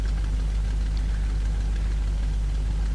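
A Messerschmitt Bf 109 E-4 piston engine runs steadily in a flight simulator, a dense, continuous low rumble with a constant drone throughout, loud and unbroken with no speech.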